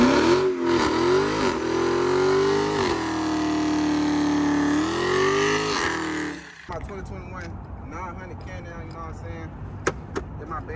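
A Dodge Hellcat engine revs loudly and steadily for about six seconds, its pitch rising and falling, before cutting off into quieter, busier background sound.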